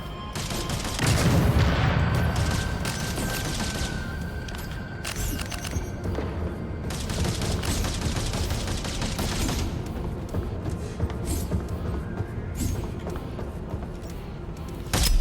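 Gunfire in the first-person shooter game Deadzone: Rogue as barrels are shot, with dense bursts of shots and booms over game ambience throughout.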